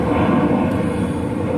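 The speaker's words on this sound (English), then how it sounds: "These airplanes are getting annoying." Steady broadband roar of an airplane passing overhead, continuous and fairly loud throughout with no talking.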